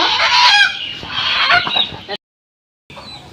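Village household chicken, a domestic desi hen caught for slaughter, squawking loudly in repeated harsh bursts for about two seconds, then a brief silence and a fainter squawk.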